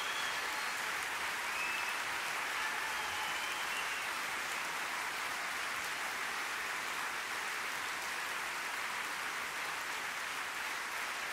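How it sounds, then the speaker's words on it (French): A theatre audience applauds a concert by thirty-one pianists on stage, producing a continuous, even wash of clapping from a large crowd that holds steady and slightly distant from start to finish. "Et vous pouvez encore les applaudir."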